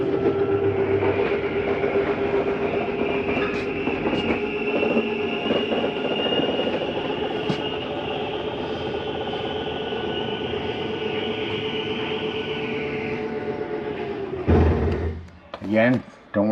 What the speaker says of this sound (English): That's going to bring in our kitchen slide.